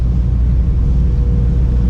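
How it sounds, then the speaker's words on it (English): A 1974 MGB engine runs after a cold start on a cold winter day, giving a steady, close, low rumbling idle with no pauses. "So here's a cold start, and there you go."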